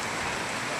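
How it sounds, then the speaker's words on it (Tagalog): Heavy rain at a public market in Trece Martires, a dense, steady roar of downpour hitting surfaces, continuous and loud throughout the brief moment with no voices. "Lakas ng ulan mga idol."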